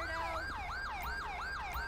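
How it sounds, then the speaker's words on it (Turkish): A police car siren in the GTA 5 video game wails in a fast, repeating up-and-down cycle, loud and steady over a low engine rumble. "Bir dakika, şu sireni bir kapatayım ben."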